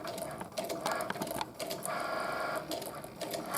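A Cricut cutting machine draws with a pen, its small motor whirring in short, uneven mechanical bursts that start and stop as the carriage shifts position, close and fairly quiet.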